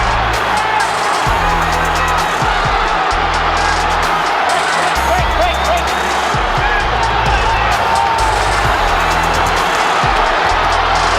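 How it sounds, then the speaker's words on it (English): A boxing arena crowd stands and applauds after a hard-fought bout, dense roaring cheers and clapping filling the whole stretch at high, steady volume, with a commentator's voice running underneath. "And the crowd stands and applauds."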